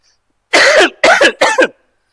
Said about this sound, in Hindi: ये खांसी ना साथ में छोड़ती है भाई, पढ़ाते पढ़ाते गला सूख जाता है और खांसी स्टार्ट हो जाती है।